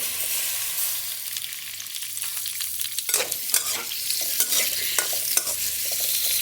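Diced potatoes frying in a karahi: a constant bright sizzle, with stirring picking up partway through as repeated close scrapes and clacks of a spoon against the metal pan.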